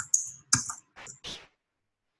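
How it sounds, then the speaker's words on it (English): A computer keyboard typing sound effect plays as a few quick, crisp key clicks in an irregular burst, then silence. "So this is a keyboard sound."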